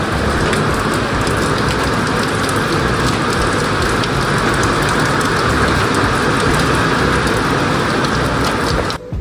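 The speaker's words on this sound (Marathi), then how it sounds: "पाऊस लय जोरात यायला लागलाय बाहेर." Heavy rain pours down outside a house with a terrace, a dense, loud, unbroken hiss with pattering drops that fills the whole stretch before cutting off; no talk.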